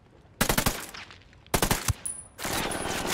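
Sharp gunfire from a sniper engagement in the video game Ghost Recon Wildlands, with two loud bursts of rapid cracking shots separated by a pause, followed by a sustained rush of noise.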